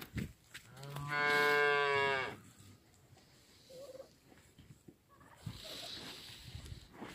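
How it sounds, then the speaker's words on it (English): A steer in a farm pen gives one long, loud, close moo with a rising and falling pitch, followed by quieter shuffling, rustling and scattered farmyard noises. "He's always mooing all the time."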